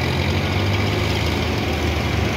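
Sonalika 60 tractor on 16-inch tyres pulling up a slope in third gear, its diesel engine giving a steady, loud, low rumble throughout with no break or voices.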